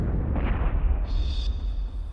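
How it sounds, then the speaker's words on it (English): A bunker-busting missile warhead detonates with a deep, rumbling blast that lingers as a heavy low roar for a couple of seconds, with a thin high tone appearing partway through. "the warhead detonates."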